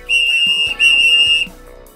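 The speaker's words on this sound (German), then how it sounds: "Und eine Pfeife. Hört mal." A shrill whistle blows twice, each blast loud and sustained for about half a second, with a short gap between them.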